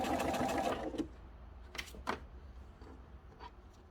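A sewing machine stitches bias binding onto a peg bag in a brief, close run of rapid stitching. A few faint clicks and knocks follow in a quiet room.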